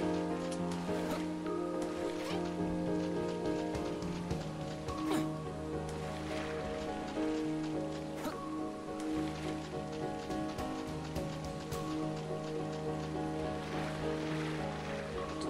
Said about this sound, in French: Il y a beaucoup d'eau dans cette zone, je remarque, et il pleut à chaque fois.